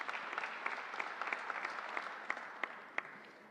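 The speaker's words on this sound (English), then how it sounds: "Let's give them a great round of applause." An audience at a COVID memorial event applauds SUNY personnel, a steady crowd clapping heard from a moderate distance with a few sharper individual claps and a slight fade toward the end.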